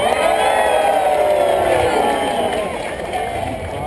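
At a pig race, a crowd cheers and whoops for a racing pig while an announcer's voice carries over the noise, and the cheering fades slightly toward the end.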